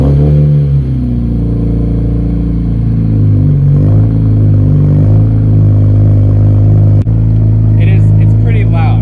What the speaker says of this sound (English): give you guys an exhaust clip